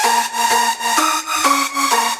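Detuned synth lead preset drenched in reverb from a track, holding a bright, roomy sustained tone that steps between pitches in a steady pulsing rhythm with sidechain dips, loud and alone.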